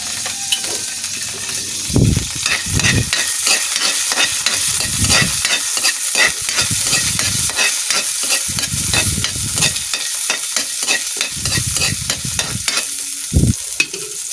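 Garlic frying in cooking oil in a pan, with a loud close sizzle and repeated bursts of stirring and scraping at an irregular rhythm, no voices.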